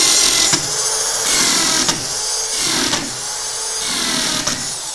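An electric drill from a 3-in-1 tool set bores with a drill bit, giving a loud continuous whine that surges and dips in a steady rhythm about every second, with no talking.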